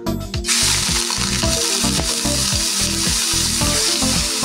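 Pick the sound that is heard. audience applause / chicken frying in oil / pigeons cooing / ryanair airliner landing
chicken frying in oil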